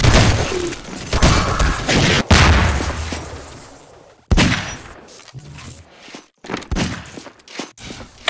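Rockets launch and explode in a Half-Life 2 Deathmatch firefight, with several loud, sharp blasts spread across the stretch and dense broadband crashes tailing off between them.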